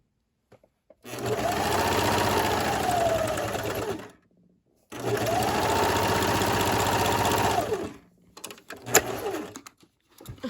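A sewing machine stitches in two long, steady runs of roughly three seconds each, separated by a short pause, then gives a few brief uneven clatters as it stops, with no talking.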